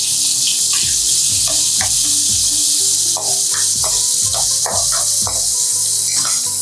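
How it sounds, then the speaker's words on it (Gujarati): Green chillies and asafoetida sizzle in hot oil for tempering, a loud, close, steady crackle with rhythmic clinks of stirring throughout. "હવે હું તેલમાં મરચાં ને હિંગનો વઘાર કરું છું."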